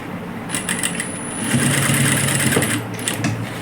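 A sewing machine stitching palazzo pants runs in quick, close bursts, its rapid needle clatter starting and stopping with a steady mechanical whir underneath.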